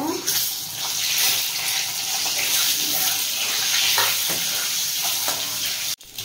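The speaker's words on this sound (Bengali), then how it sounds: "ওই তেলের মধ্যে ডিমটাও ভেজে নেব।" Eggs frying in hot mustard oil in a wok: a loud, steady, crackling sizzle that fills the whole stretch, ending in a sharp knock near the end.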